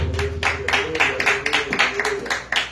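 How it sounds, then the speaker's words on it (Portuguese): A church congregation claps in praise in a steady rhythmic pulse, with a voice or sung tone running underneath the claps throughout. "As palmas louvam ao Senhor"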